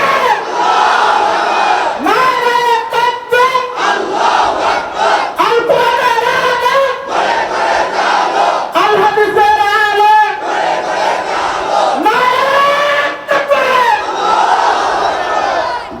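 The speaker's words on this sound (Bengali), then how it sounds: "সবাই তাকবীর দেন, যার যার থেকে তাকবীর দেন।" A large crowd at a Bangladeshi religious gathering chants takbir in loud, repeated unison shouts, each call rising and falling in waves over the full stretch.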